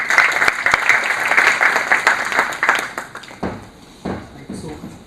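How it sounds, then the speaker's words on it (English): A seminar audience breaks into a brief burst of applause to welcome a speaker, loud dense clapping for about three seconds that thins to a few scattered claps and fades out. "Please welcome Ranjita Prakash with round of applause."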